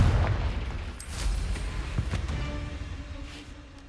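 A Confringo fire spell blasts off in the Hogwarts Legacy video game, a booming burst with a few sharp cracks and a rumbling tail, loud and close.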